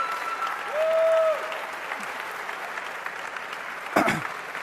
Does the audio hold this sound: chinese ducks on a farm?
no